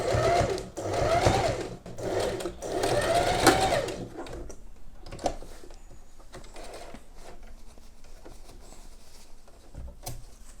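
A sewing machine stitches gathered fabric ruffles in bursts of fast mechanical whirring for about four seconds, then falls quiet apart from a few faint clicks and light handling noises.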